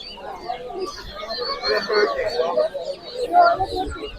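Chicks cheep and peep in a crowded poultry market stall, with other fowl nearby, a busy run of chirps with people talking throughout.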